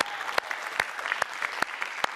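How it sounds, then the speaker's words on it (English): A crowd at a retail staff awards event applauds, giving a fairly light, continuous patter of clapping with a few sharper, louder claps standing out at a moderate distance. "A round of applause one more time."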